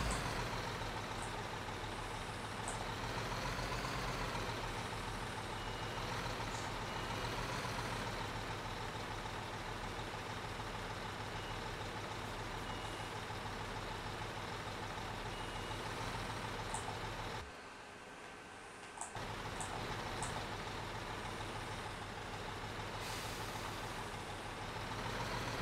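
A dump truck in Construction Simulator 2015 unloading sand over a hole gives a steady, loud engine drone that holds throughout, with a short dip near the end before the rumble comes back.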